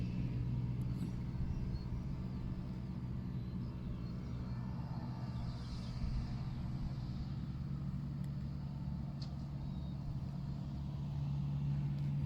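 A grass-cutting machine mows the lawn in front of a house, producing a steady low droning engine rumble that holds at an even, moderate level without pause.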